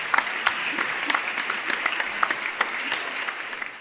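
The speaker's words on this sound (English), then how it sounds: "Clap it up," Audience clapping to welcome new New York Knicks coach Tom Thibodeau, a steady patter of many hands with sharper individual claps standing out, moderately near and without talk.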